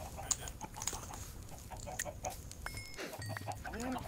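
Chickens clucking in the video game Minecraft on a farm, repeated short clucks and squawks scattered over steady background game sound at moderate loudness.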